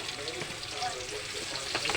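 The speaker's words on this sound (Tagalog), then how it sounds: "Lutuin po natin ng konti ang ating sibuyas bago po natin igisa ang ating giniling" Onions sautéing in a pan with garlic already browned in the oil, a steady, moderately quiet sizzle and crackle running throughout, close by.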